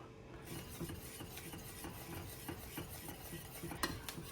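Cheese being whisked into a sauce for baked mac and cheese gives quiet, steady scraping and stirring strokes in a pot, with a few sharper clinks, close up and without talk.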